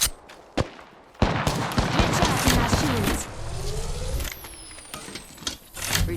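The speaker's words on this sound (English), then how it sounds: "Getting shot at. Spotted. Taking fire." Gunfire in Apex Legends during a firefight, with sharp shots, bursts and sustained rapid fire close by, a loud burst near the start and scattered impacts, then a high whooshing streak and softer trailing shots near the end.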